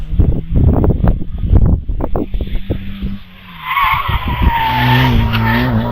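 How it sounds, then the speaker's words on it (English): A race car at the Harewood hillclimb in the British Championship fires a quick series of sharp engine bursts, then its tyres let out a long, loud, sustained squeal as the car slides past. Wind carries the sound. "squeal of those tyres"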